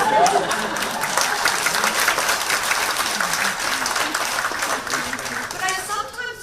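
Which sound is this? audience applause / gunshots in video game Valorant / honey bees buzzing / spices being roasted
audience applause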